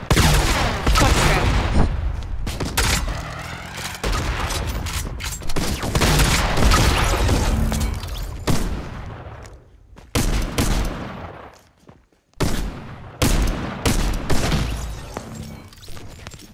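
Rapid bursts of light machine gun fire in a Fortnite match rattle loudly and almost continuously, broken by a few short pauses and a near-silent gap before the firing resumes.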